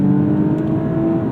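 The engine of a 2007 Lexus IS 350 accelerates hard in a steady, loud drone heard from inside the car, with no talking.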